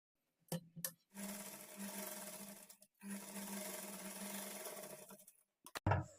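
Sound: sewing machine top stitching blouse lining edge

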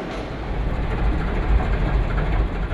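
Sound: Soyuz-2.1A rocket rolled out on a rail platform

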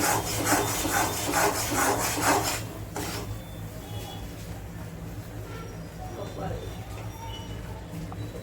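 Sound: stirring flour in ghee in a pan

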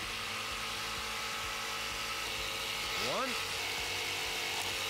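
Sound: BladeRunner X2 tabletop saw cutting wooden dowel rods

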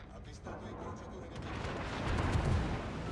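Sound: warship gunfire in the video game World of Warships

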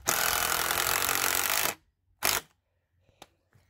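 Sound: power drill driving decking screws into a garden bed

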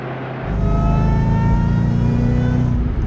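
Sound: 2008 Ford GT500 supercharger whine while accelerating

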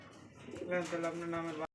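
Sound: fancy pigeons cooing

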